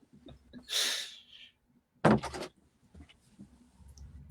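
An indoor door is opened to let a dog out: a rushing, breathy swish first, then a sharp thunk and rattle of the door, followed by faint shuffling.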